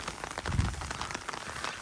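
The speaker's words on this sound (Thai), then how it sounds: "ฝนกระตก" Light daytime rain pattering on a surface outdoors, a soft, steady patter of drops with a brief low thump, faint and heard alone.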